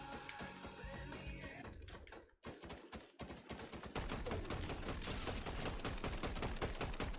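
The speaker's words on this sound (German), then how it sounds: "Schüsse." Rapid bursts of video game gunfire crackle continuously, with a short lull before the shooting resumes denser and louder over a busy game soundtrack.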